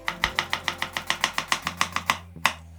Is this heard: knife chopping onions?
yes